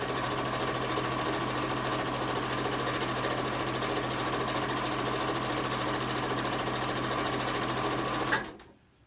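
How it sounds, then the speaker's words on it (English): Sewing machine stitching a pillowcase, running in one long steady hum with fine rapid needle clatter, close and even, then stopping abruptly near the end. "I'm just going to finish up the sewing here."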